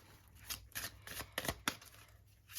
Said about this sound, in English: let's just give it a quick little shuffle just in case